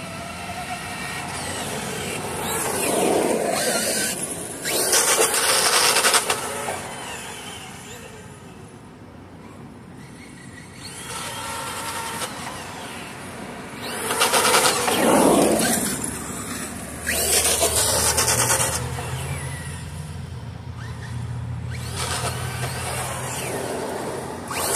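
A Traxxas Stampede 4x4 VXL electric RC truck makes repeated high-speed passes, its motor whine swelling loud and fading between runs, with outdoor background noise.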